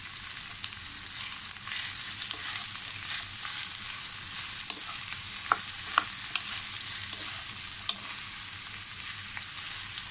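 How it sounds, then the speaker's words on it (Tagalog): Bitter gourd (ampalaya) and tuna fry in a pan with a continuous soft sizzle, broken by a few sharp ticks and scrapes as a utensil stirs the mixture; no one speaks. "Haluin lang ng haluin."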